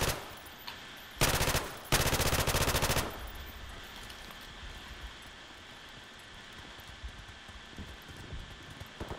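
Loud automatic gunfire in a bomb-defusal video game: two dense bursts of rapid shots close together, the first short and the second longer, then quiet ambient game noise.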